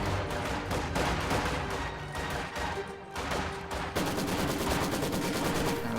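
Sustained Maxim machine gun fire in a Soviet-era war video game, loud continuous bursts packed with other gunfire and battle noise, barely pausing for the full stretch.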